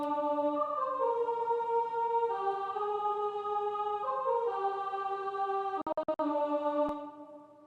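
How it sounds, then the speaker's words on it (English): A synthesized vocal pad from Omnisphere with RC20 distortion, noise and reverb, playing sustained chords that shift every couple of seconds, with a brief stuttered glitch near the end before fading out. "just the vocal sound in Omnisphere with a bit of reverb probably"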